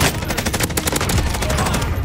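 Loud, rapid automatic gunfire fills a short burst in the video game Call of Duty Warzone, with shots cracking continuously and close up.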